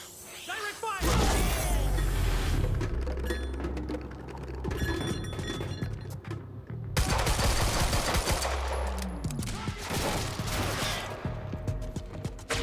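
Intense gunfire in the game Quantum Break, dense bursts that rattle almost nonstop with a short break partway through, loud and close, with voices shouting amid the shooting.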